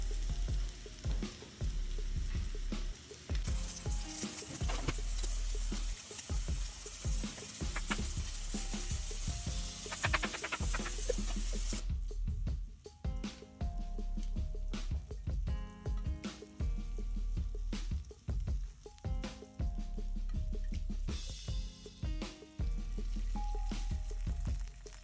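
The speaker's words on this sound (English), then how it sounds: "you're gonna take your salmon, flesh side down, carefully drop it on in" Salmon frying flesh side down in hot oil, a loud, continuous crackling sizzle close by with dense popping spatters throughout, shifting in texture midway but never letting up.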